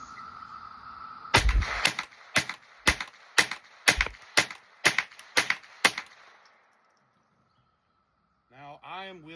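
A Rock Island TM22 rifle fires Remington ammunition, about ten sharp shots in a steady, fairly quick rhythm before the firing stops, followed by a short voice near the end.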